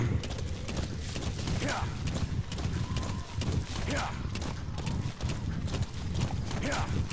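A horse gallops in the video game Metal Gear Solid V: The Phantom Pain, with a steady, rhythmic clip-clop of hooves running throughout while someone talks over it.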